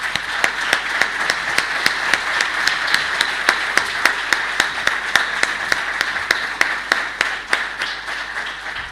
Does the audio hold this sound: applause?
yes